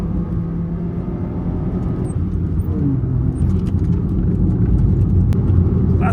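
A modified Honda Jazz/Fit is driven hard through the gears. A loud, steady engine drone and road rumble fill the cabin, and the pitch climbs as it revs.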